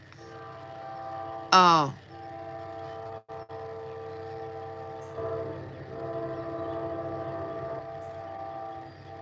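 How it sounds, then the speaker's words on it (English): A morning train passing at a distance, with a short falling horn blast early on followed by a low continuous rumble and rail hum, and a brief voice. "Here comes the morning train."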